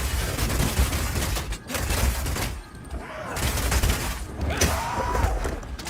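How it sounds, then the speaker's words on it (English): Rapid Shot gunfire from a Mercenary in Path of Exile 2, dense loud bursts of rapid shots with impacts and booms, briefly dropping away before resuming, under game sound effects. "Being able to run while shooting with Rapid Shot is also great for when you want to perform a fighting retreat."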